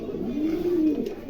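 A pair of Silver Shoking fancy pigeons gives a single drawn-out low coo, close by and clear against a quiet background.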